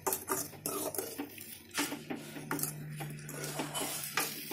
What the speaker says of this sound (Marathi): पोळी टाकल्यानंतर व्यवस्थित हलवून घ्या